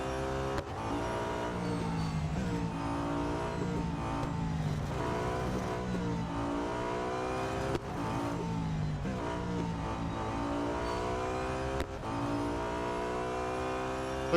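A 2012 Audi A5 DTM race car engine in Real Racing 3, revving loudly and steadily with repeated rising and falling pitch sweeps as it accelerates and shifts gears, with no talking.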